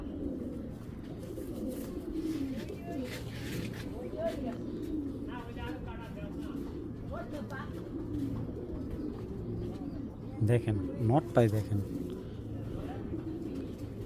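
Tournament-bred pigeons, among them Girbaz, Silver, Beji, Army, Napta and Baga types, coo softly and steadily from near at hand. Someone talks over them the whole time, and a brief louder burst of cooing and flutter breaks through near the end.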